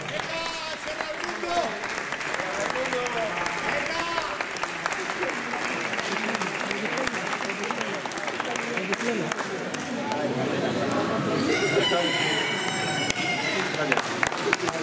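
Applause from the audience at a poultry show award ceremony in Albelda de Iregua, after a prize for the best Castellana hen. The clapping runs steadily throughout over a dense room murmur, with voices underneath and a louder swell near the end.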